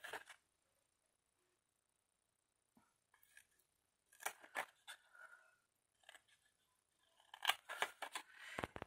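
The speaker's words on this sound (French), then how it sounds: "on coupe ici tout droit." Scissors snipping paper in short straight cuts while a paper advent calendar Santa's car is assembled, heard as scattered quiet bursts of small crisp snips with long silent gaps, busier near the end.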